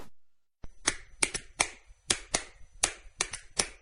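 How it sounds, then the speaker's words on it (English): Several sharp claps ring out one after another at an uneven pace, crisp and close, with short quiet gaps between them and no voices. "What's the universal language of a fan? Clapping your hands."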